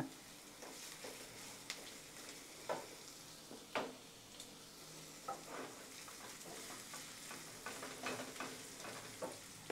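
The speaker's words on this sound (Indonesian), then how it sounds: "bawang merah bawang putih ditumis dulu sampai layu" Shallots and garlic sauté in a pan with a quiet, continuous sizzle, broken by repeated light scrapes and taps of a spatula stirring at an uneven pace.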